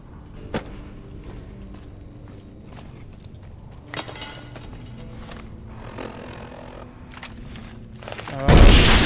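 A hunting shotgun fires in Fallout New Vegas during a battle at Hoover Dam: a few sharp, isolated blasts are spread through quiet ambience, and the final shot is the loudest and fullest.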